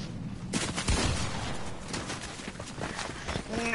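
Gunfire from the Fortnite video game: a quick burst of several crackling shots near the start, then scattered shots and clatter continuing at moderate loudness with no talk.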